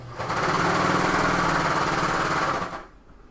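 A serger sewing machine stitches two layers of fabric together, a loud, close, fast mechanical whirr that runs steadily for nearly three seconds and then stops abruptly.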